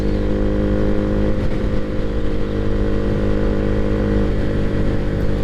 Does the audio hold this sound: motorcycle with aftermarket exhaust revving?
yes